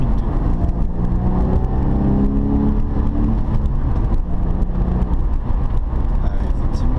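Engine of a Porsche 911 Carrera S (997) pulling strongly above 4000 rpm, a steady loud drone with rising harmonic tones from inside the car, while people talk over it.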